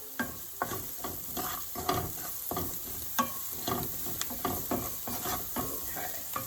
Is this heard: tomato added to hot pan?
yes